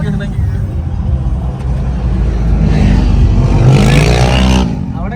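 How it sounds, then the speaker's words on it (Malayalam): Shah Rukh Khan's car revs nearby, its engine roar swelling and peaking before easing off, heard under loud, continuous talking from people close by. "ഷാറുഖാന്റെ ഈ വണ്ടി"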